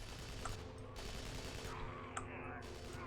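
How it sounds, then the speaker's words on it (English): Gunfire in the action game Hellgate London rattles as a steady, dense stream of shots with a couple of sharper bangs, quiet and continuous beneath a low background rumble. "Which means you can just stand and shoot."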